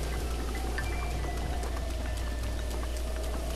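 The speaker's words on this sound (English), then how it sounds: "Oh, great, it's raining" Rain falling in Zelda: Breath of the Wild, a soft steady patter over a constant low game hum, continuous and even with faint tonal game sounds, no speech.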